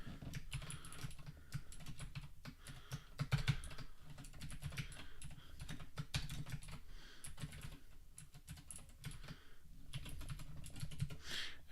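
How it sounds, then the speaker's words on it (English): Computer keyboard typing during web app setup, a steady stream of quick clicking keystrokes with small bursts and pauses, moderately close, no speech. "I cannot type today"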